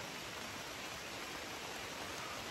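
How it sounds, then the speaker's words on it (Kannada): Rain falls in the forest on the Kumara Parvata trek in Karnataka as a soft, even, continuous hiss, faint and unbroken, with no voices over it. "ಮಳೆ ಬರ್ತಾ ಇರೋ ಸೌಂಡ್ ಕೇಳಿಸ್ತಾ ಇದೆಯಾ?"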